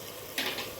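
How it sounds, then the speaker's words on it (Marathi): Sambar masala, turmeric and coriander powder sautéing in a pan, a steady soft sizzle with one brief scraping stir partway through, close and fairly quiet. "परतून घेते"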